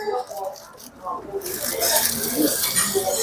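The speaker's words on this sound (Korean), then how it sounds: "지글지글. 한박스테이크" Steady broadband sizzling from a hamburger steak on a hot plate builds after the first second and continues loudly, with excited voices talking over it.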